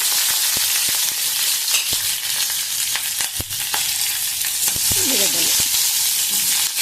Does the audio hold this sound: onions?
yes